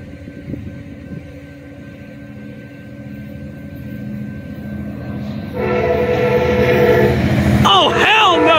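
An Amtrak San Joaquins passenger train, number 713 northbound to Oakland, led by an F59PHI locomotive, rumbles closer and louder, its horn sounding in long tones before the heavy rolling noise fills the scene, with people talking nearby.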